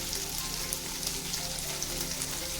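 Chopped onion, capsicum and beans frying in a pan for veg chow, a steady, even hiss of sizzling oil that continues without pause.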